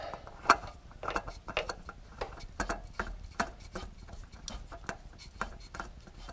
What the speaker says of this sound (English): And just throw the new filter on.